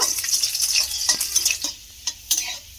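Eight to ten garlic cloves fry in hot oil, giving a busy close crackle with stirring scrapes that thins into a few sharp pops near the end, with no voices.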